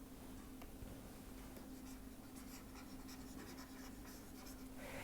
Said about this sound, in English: I will erase this part.